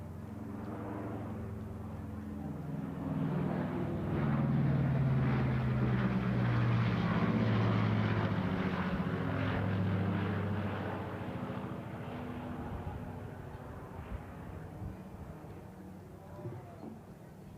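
A restored B-25 Model J bomber flies past at the National Championship Air Races in Roswell, New Mexico. The deep, throbbing twin piston-engine drone swells to a loud peak midway, then fades into the distance, with faint talk in the background.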